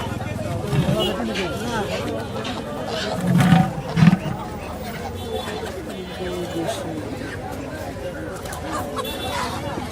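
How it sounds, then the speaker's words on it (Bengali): Chickens and ducks cluck and squawk amid a busy crowd of talking voices at a village poultry market, with a couple of louder bird calls standing out briefly. "একদম দেশি মুরগি"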